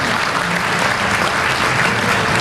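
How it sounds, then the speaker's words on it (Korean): A ceremony audience marking a volunteer association president's inauguration in Bucheon breaks into dense, loud, sustained applause, an even wash of many hands clapping with no voices over it. "뜨거운 박수 부탁드리겠습니다"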